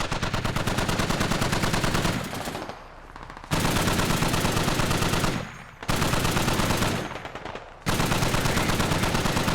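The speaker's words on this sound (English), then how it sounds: "What is he shooting at?" Automatic gunfire in the military video game Squad rattles out in long, loud, close bursts, broken by a few brief pauses before the firing resumes.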